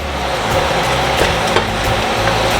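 Steady crackling sizzle of ramp leaves frying in a hot pan, constant and fairly loud, with a few sharper pops.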